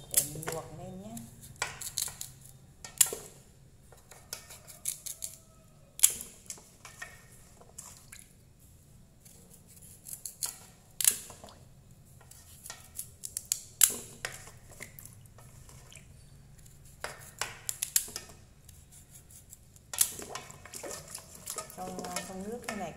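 A knife cutting a Japanese sweet potato into chunks on a board: sharp, irregular chopping knocks at uneven intervals with some soft, wet squishing between strokes, close and clear.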